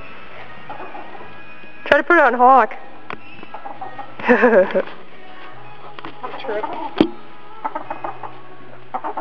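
A chicken clucks in short bursts of harsh squawks near a horse-saddling scene, loud and close, while people talk intermittently around it.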